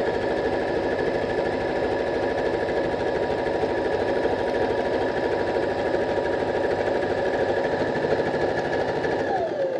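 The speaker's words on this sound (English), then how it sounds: "got this set to about a 2mm length stitch, and it's about a 2 to 3mm wide zigzag stitch" A sewing machine runs steadily, stitching a 2 to 3 mm wide zigzag stitch at about 2 mm length for appliqué, its fast mechanical needle chatter loud and continuous throughout with no talking.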